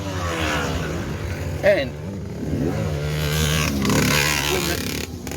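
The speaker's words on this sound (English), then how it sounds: "when the dirt bikes have gone past, seeing as we're out near an off-road track" Dirt bikes ride past near an off-road track, a mid-pitched engine drone rising and revving under steady talk, with a brief louder swell as one passes close.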